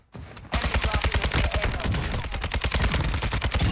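An RPK machine gun firing in a video game, a long sustained automatic burst of evenly spaced, punchy shots, loud and close, with only a short pause near the start.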